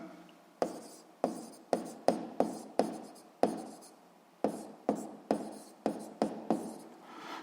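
Pen strokes on paper while a physics formula is written out, a quick series of close, distinct scratchy strokes in short bursts with brief pauses between, no talking.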